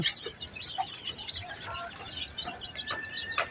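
Chickens cluck and chicks peep in short, scattered calls at moderate distance, with faint background noise between them.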